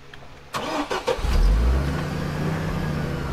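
Car engine in the Roblox Brookhaven game cranks and catches after a brief pause, then settles into a steady mid-pitched idle rumble, close and loud with no talking.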